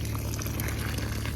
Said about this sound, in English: So I definitely have to let that water drain through.